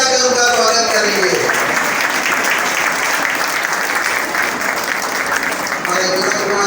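An audience at a community welcoming event in Ulhasnagar claps steadily and continuously, a dense wash of applause. A voice speaks faintly over it.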